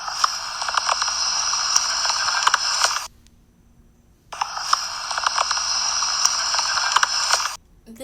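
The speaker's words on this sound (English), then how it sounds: "So you're gonna hear a lot of rain sound." Steady hiss of rain recorded on a camera during a nighttime cemetery ghost hunt, a continuous broadband wash that drops out abruptly for about a second, then returns and runs on close and constant.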